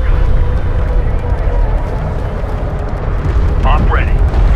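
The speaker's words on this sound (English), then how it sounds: "Hostile railguns have opened up." Hostile railguns fire in a Homeworld: Deserts of Kharak battle as loud, continuous rumbling booms and blasts filling the space, with radio-style voices mixed in.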